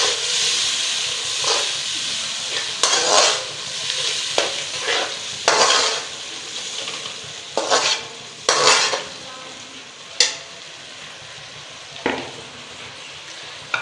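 Two washed tomatoes go into sizzling karela gosht masala, a steady hiss of frying punctuated by repeated scraping stirs of a spoon against the pot at irregular intervals, with no talking.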